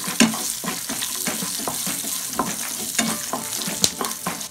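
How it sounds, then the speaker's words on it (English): Spices with cashews and red chilli sizzling in a pan as they are stirred, a constant frying hiss broken by irregular scraping and clinking strokes, close up with no talking. "So just give a stir."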